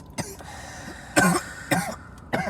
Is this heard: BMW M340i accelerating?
no